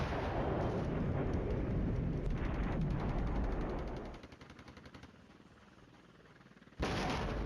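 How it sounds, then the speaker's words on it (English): Artillery explosions in the Flashpoint Campaigns Red Storm war game roll as a sustained rumbling barrage, then drop off to a quieter stretch before another blast hits near the end. "Come on, more explosions."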